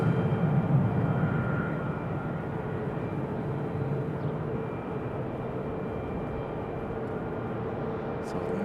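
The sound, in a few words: United Boeing 737 MAX 8 arriving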